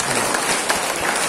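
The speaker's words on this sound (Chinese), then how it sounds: "掌声。" A short burst of applause from a seated audience at a Buddhist temple lecture: dense, even clapping from many hands, fairly loud and unbroken for its brief length.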